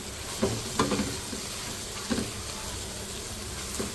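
Pieces of fried egg are stir-fried into chicken fried rice, with a continuous sizzle and several sharp spatula strikes and scrapes against the pan at uneven intervals.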